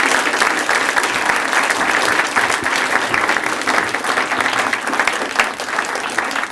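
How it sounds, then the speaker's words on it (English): A Veritas Forum audience applauds the two organizers back at the podium, a dense, steady wash of many clapping hands filling the room for several seconds with no talk over it. "Can we have a round of applause for these two?"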